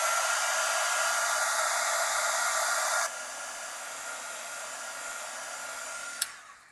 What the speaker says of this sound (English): I'm gonna hit that with my heat tool just to make sure that all that black pen is dry